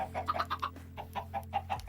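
Chicken clucking in Minecraft, a run of short, evenly spaced blocky clucks over a steady low hum, close and moderately quiet.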